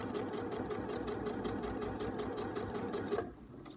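Sewing machine attaching a zip, running in a steady continuous whir with a rhythmic needle pulse, close but fairly quiet, stopping near the end.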